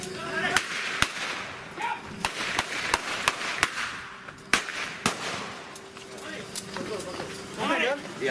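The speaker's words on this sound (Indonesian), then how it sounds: "Suara letusan tembakan berkali-kali ini mewarnai penangkapan buronan pencuri ponsel" Several sharp gunshot cracks ring out at irregular intervals, loud and close, amid shouting voices and outdoor commotion during a police raid arresting a phone-theft fugitive in Indonesia.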